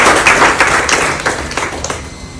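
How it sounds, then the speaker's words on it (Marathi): Brisk, close clapping from a small group honouring two award-winning women, with sharp individual hand claps that taper off toward the end. "तर दोघींसाठी पण टाळ्या होत्या"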